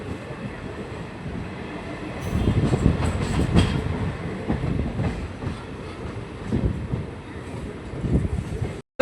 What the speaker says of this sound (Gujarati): લાઈવ ટ્રેનની અંદર આપણે મુસાફરી કરતા હોય એવી રીતે